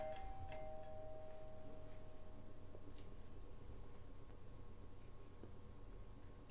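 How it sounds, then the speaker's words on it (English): A doorbell chime in a video game rings repeatedly, faint and tinny over a steady hum of background noise, with no one speaking. "the doorbell's just ringing endlessly"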